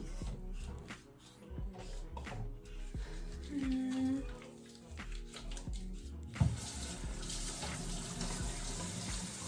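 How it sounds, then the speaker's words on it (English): A bathroom sink tap runs while a face is washed, a soft, steady stream with splashing and hand sounds that grows fuller and louder partway through, with faint background noise. "Now I'm going to wash my face."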